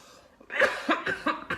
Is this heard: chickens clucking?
no